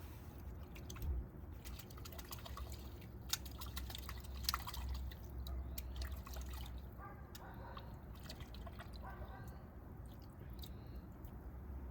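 Water pouring and dripping over the washed roots of a freshly repotted buckeye or weeping willow tree, a steady soft trickle with scattered drips, faint and close, no talking.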